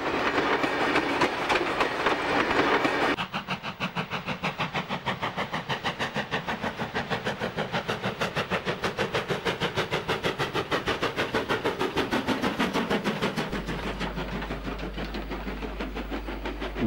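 A train passes close by on a New South Wales line, its wheels beating a rapid, steady clickety-clack over rail joints that fades slightly toward the end; no speech.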